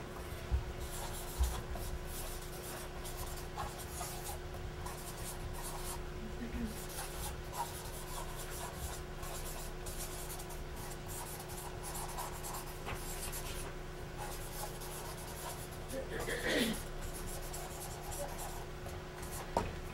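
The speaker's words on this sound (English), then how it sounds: "I'm just going to write it for myself." A pen or marker moves across paper as a teacher handwrites a focus question: continuous soft scratching and rubbing strokes for about twenty seconds, close and steady, with a few light taps and faint background hum.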